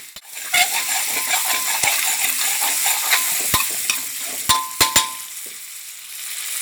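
Instant noodles stir-fry with soy sauce and oyster sauce in a pan, a constant loud sizzle broken by sharp metallic clinks of a utensil against the pan, several close together near the end.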